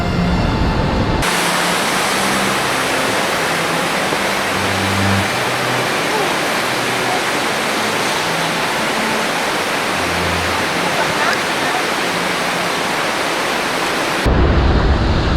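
Vernal Fall in Yosemite roars as a steady, loud broadband rush of falling water heard on the hike up, constant and unbroken throughout.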